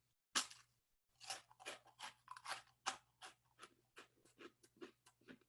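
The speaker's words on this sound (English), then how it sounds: "All right, first step, chewing it up." Crunchy chewing of a small toasted snack, close and loud, with a quick series of crisp bites and crunches in an uneven rhythm and no talking.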